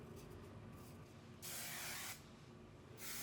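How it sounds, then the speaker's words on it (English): Hairspray hisses from an aerosol can onto hair in two short bursts, a bright close spray over a faint steady background hum. "Actually, I could do a quick spray right now."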